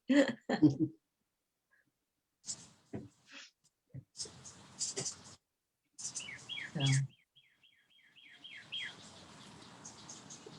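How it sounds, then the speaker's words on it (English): Birds sing outdoors in scattered bursts, with quick descending chirps and tweets near the end, separated by quiet gaps and a few brief nearby voice-like sounds, picked up over a phone. "Somebody's outside with some beautiful bird songs."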